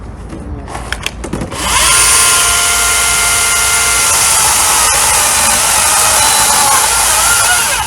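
A Ryobi battery chainsaw bites into wood, rising from a quiet start into a loud, sustained whine as the cut continues close by.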